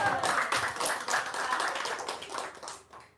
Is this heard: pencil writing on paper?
no